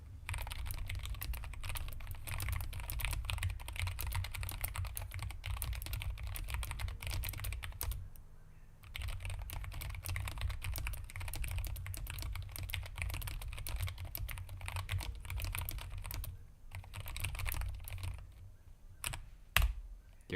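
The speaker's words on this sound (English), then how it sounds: "I'm gonna do some typing for you" Steady keyboard typing, a continuous rapid patter of key clicks close by, with a brief pause partway through and a few louder taps near the end.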